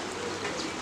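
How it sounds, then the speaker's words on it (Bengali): Heavy rain pouring down in a steady dense hiss, loud and unbroken for under a second, with pigeons kept nearby. "মানে প্রচণ্ড বৃষ্টি পড়তেছে, মানে অনেক জোরে"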